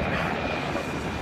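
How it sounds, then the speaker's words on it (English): A helicopter passes overhead as a loud, steady broadband engine and rotor roar that fills the whole short stretch without pause. "And here comes the helicopter."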